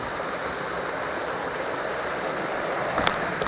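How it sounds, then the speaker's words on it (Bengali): A small roadside waterfall spills down a hillside, giving a steady, dense rush of falling water that holds evenly throughout with no voices. "পাহাড় থেকে পানি পড়তেছে এখন"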